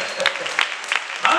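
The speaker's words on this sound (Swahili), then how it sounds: "Pigia Yesu wetu makofi." A Pentecostal church congregation claps for Jesus in a brief burst of applause, with a few sharper clap peaks over a dense, steady background and some voices mixed in.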